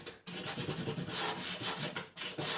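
A wooden end table is hand sanded with 100 grit sandpaper in continuous back-and-forth rubbing strokes, close and fairly loud, broken by two short pauses where the paper lifts off the wood.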